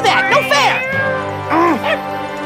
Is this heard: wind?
no